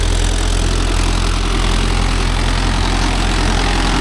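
A Mahindra Yuvo Tech Plus 585 4WD tractor pulling a 9-tine cultivator, its diesel engine droning loudly and steadily with a constant low rumble, close and continuous, with no talk.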